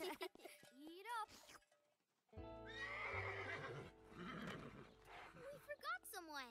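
A cartoon horse whinnies loudly in a lively neigh amid playful animated sound effects, with clip-clop hooves and character voices chattering around it.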